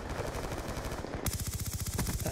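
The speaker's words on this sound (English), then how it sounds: "I'm trying to shoot them in the back so that it's an easy gunfight for me" Rapid automatic gunfire in a Call of Duty Hardpoint match, a dense, loud burst that shifts into a steady rattling stream of evenly spaced shots partway through, without talking.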